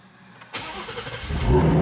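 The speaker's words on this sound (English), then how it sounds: "first startup since I got the car back to me now" A Ford Mustang GT350 engine cranks and fires up, a sharp catch followed by a rising, settling rumble that swells louder toward the end, heard up close with no talking.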